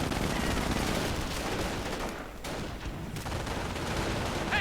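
Mortar fire and dense gunfire in a World War II real-time strategy game match, a steady loud barrage of crackling shots and bursts with no talk, briefly easing midway before resuming.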